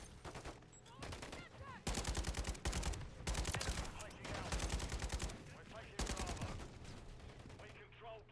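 Light machine gun fire in a Call of Duty match, bursts of rapid automatic shots in repeated rounds with short pauses between, fairly close and dense.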